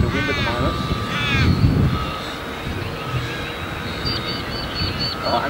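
A radio-controlled Extra 300 model airplane at about 60% throttle, its engine a steady drone under a voice, with wind noise and some bird calls nearby outdoors.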